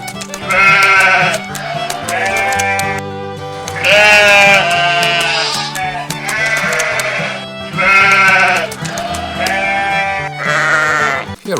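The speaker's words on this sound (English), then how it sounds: "here is the ram." A ram bleats loudly and close, giving several long, quavering calls in a repeated rhythm with short pauses between them, with no talking.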